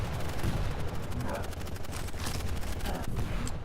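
Machine-gun-like rapid fire from an audio bug in the Quake Champions video game, a continuous dense rattle of gunfire filling the whole stretch alongside other game sounds.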